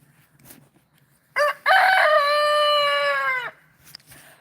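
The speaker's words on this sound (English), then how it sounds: "Now he's literally crowing at this camera stand." A rooster crows once, loud and close, a single long harmonic cock-a-doodle-doo lasting about two seconds, with quiet surroundings before and after.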